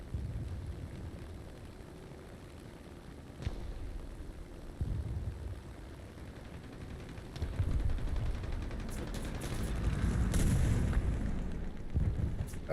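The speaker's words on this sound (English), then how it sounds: "That's a bad bombing." Bombs burst in the War Thunder video game, a run of deep booming explosions and rumbling blasts, some sharp and others rolling, building into a heavier roar near the end without talking.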